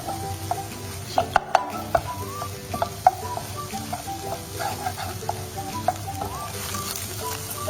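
Egg scrambled in a pan for prawn fried rice: a close, continuous sizzle broken by sharp spatula clicks and taps against the pan, some landing in quick bursts.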